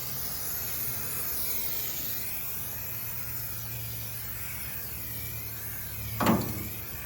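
Chrome tin valve covers for a classic car engine bay being spray painted from an aerosol can, a steady even hiss running throughout with a low hum beneath and a brief sharper clatter near the end.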